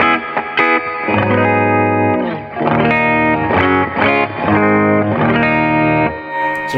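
Electric guitar on the bridge pickup, played through a Peavey Classic 30 amp, strums a run of loud, close, slightly overdriven chords in a steady rhythm with short gaps between them, with no talking.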